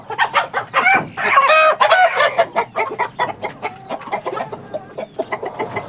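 Rooster clucking close by in a rapid series of calls, with one longer crowing call in the middle.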